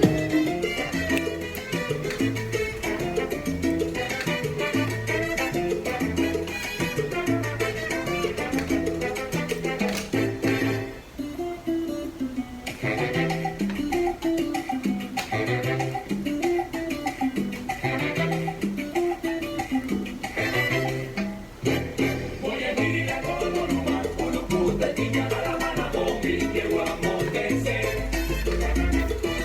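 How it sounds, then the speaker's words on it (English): Afro Latin music plays continuously, a dense mix of percussion, bass and melodic parts with a steady driving groove, full and loud throughout with brief dips in the arrangement. "what you just heard was Afro Latin music"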